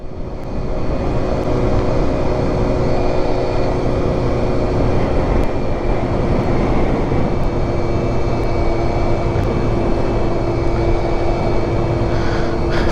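A Yamaha Zuma scooter fitted with variator mods hums along steadily while riding, a continuous engine drone mixed with wind rush, with no talking.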